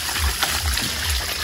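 Steady trickle of dew water dripping outdoors, a soft continuous wet patter with a few slightly louder drops, no one talking.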